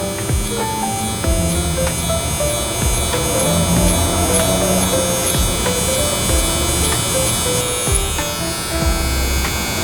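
A close electric hair trimmer with a non-zero-gap blade and the lever open hums steadily and loudly throughout a low-taper buzz cut, with no pauses and no talk.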